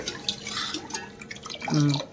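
Roughly six liters of water poured into a pot to make sugar syrup for jamun, a steady splashing, trickling stream close by with faint background voices.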